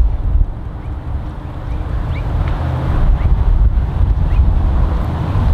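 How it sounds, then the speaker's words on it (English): Strong wind blows across an open golf course, buffeting the microphone in a loud, constant low roar that swells slightly in gusts, with no voices. "Very strong wind here."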